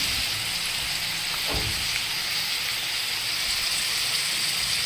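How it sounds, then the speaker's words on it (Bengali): Snake gourd fries in a pan with a constant, fairly loud hiss and crackle, like steady rain, with a single faint knock early on. "দিয়ে খুব ভালো করে আমি চিচিঙ্গাটা ভেজে নেব"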